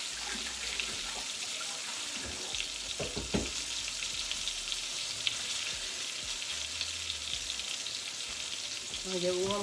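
Cod fillets, flash-frozen, frying in a pan with a steady, close hiss and crackle of sizzling oil throughout, a few brief clinks of utensils partway through.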